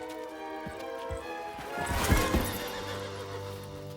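A horse whinnies loudly over a busy background of clattering hooves and knocks, with a sharp crash near the middle.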